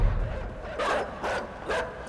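Dogs in the video game INSIDE bark in three short, rough bursts spaced about half a second apart, fairly close over a low, murky background rumble.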